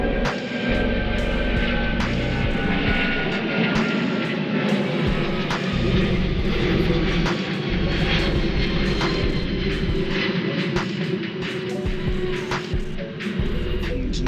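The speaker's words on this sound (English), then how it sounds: "I live by an airport, close to an airport, so you got the plane going by." An airplane passes overhead while turning near an airport, a sustained, fairly loud engine roar and hum that holds steady for the whole stretch with faint ticking sounds and no talk.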